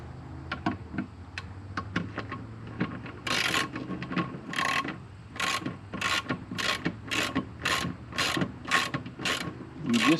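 Ratchet tightening a bolt with a metal lock washer on an RV safety rail, a run of sharp rapid clicks followed by regular bursts of ratcheting strokes, close and clear with no talk.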